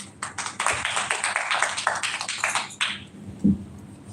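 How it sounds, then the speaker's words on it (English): Audience at a Uganda business forum and expo claps for a guest of honor from a Malaysian industries council; moderate scattered applause lasts about three seconds, then fades into quiet room tone with a single thump. "Can you please give him a round of applause"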